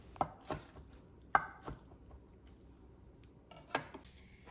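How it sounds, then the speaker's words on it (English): Cooked noodles chopped into bite-sized pieces on a board, a handful of sharp, separate knife strikes spaced irregularly, close and clear with no talking. "I'm just chopping up the noodles here."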